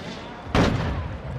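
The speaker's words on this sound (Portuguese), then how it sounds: "esse tiro foi perto" A single close, loud gunshot in Call of Duty: Modern Warfare III, a sudden sharp crack that decays quickly into the game's background noise.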